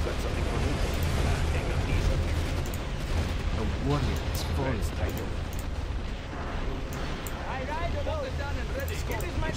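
Tanks, including a Scorpion tank, fire in a Command & Conquer Generals Zero Hour battle, with dense overlapping blasts and booming explosions throughout, under voice lines and talking.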